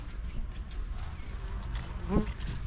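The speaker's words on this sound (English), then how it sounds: "we're out here for another honeybee problem, honeybee conflict" Honeybees at a hive built behind a service center and electric meter give a faint, steady insect buzz with a thin high whine, close outdoors, with a brief soft knock near the end.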